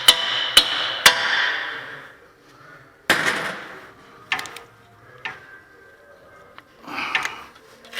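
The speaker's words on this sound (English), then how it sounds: "Now get your hammer." Sharp metallic hammer strikes ring out on a Toyota Tundra front axle during CV axle replacement, three quick blows then several scattered hits, each with a bright ringing decay, close and loud.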